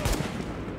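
Gunfire from enemy snipers in the video game The Division, a burst of sharp shots up front followed by a dense rattling wash of fire, fairly loud and without talk.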